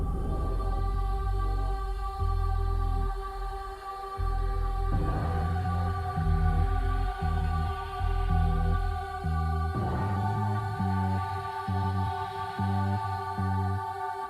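Yamaha Montage choir pad layered with a cinematic sample, sustained synth tones with rhythmic low pulses and swelling textures, loud and continuous with no talking.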